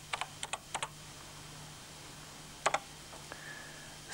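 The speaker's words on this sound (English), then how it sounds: "Every time we press the delete key, the last character entered is deleted." Keys clack on a BBC Microcomputer keyboard, a few quick bursts of typing and delete-key presses with pauses between, close and fairly quiet against a faint steady hum.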